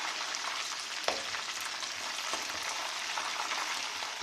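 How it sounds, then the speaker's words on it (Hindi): Chicken pieces fry in hot oil with a dense, steady crackling sizzle, close and loud, broken by a couple of sharp pops and the scrape of stirring. "हमने चारों साइडों से ऑयल में अच्छे से फ्राई करना है"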